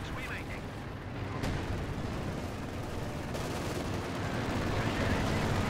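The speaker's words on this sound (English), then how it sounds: "Armor-piercing rounds just tearing the AI apart." Armor-piercing rounds fired during a Company of Heroes 2 battle, a dense wash of gunfire and impacts rumbling under battlefield noise, growing louder partway through.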